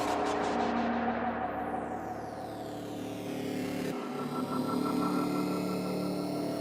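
A distorted build-up effect made with a redux plugin in a cinematic intro production, a dense sustained tonal drone with a sweeping rise that cuts and shifts character midway, loud and continuous with no voices.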